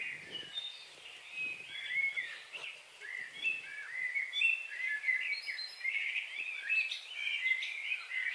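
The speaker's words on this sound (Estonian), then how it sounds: "Ma jäin kuulama, kui ilusti linnud laulavad." Songbirds sing outdoors, several bright chirping and warbling calls overlapping continuously at moderate distance, with no voices.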